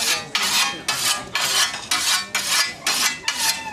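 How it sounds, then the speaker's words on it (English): Whetstone strokes sharpening a scythe blade at a UK scything competition: a steady rhythm of about eight loud, close, gritty rasping swipes, alternating quickly with no talk. "If it doesn't cut properly, you just get up and sharpen again."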